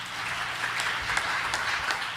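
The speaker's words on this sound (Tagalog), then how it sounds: "Palakpakan natin ating malapang. Everybody say, praise the Lord. Palakpak ng malakas." A church congregation applauds loudly during a preaching service, a dense, steady wash of clapping from many hands that carries on throughout without a break.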